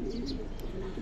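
A cream-eyed Giribaz pigeon gives a short, soft coo at close range, a low murmuring call heard on its own.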